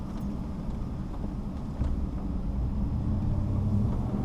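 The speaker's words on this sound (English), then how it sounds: "And just do a little drive around here." A car drives slowly around a newly built parking area and athletic fields at a highway construction site, giving a steady low engine and road rumble that swells slightly partway through, with no talk.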